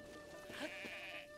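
A single short sheep bleat from the video game Zelda: Breath of the Wild rises faintly over soft sustained in-game music.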